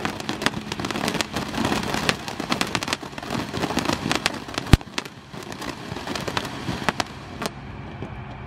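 Jumbo Mercon mini cake fireworks, several boxes lit at once, fire off a dense, continuous barrage of crackling pops and bangs, with one sharp loud blast partway through.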